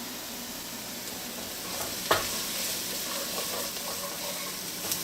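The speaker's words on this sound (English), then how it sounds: "we're going to sweat this garlic for just 2 or 3 minutes" Garlic sweating in a pot for corn chowder gives a steady, soft sizzle with light stirring, one brief louder clink partway through, close and continuous with no talking.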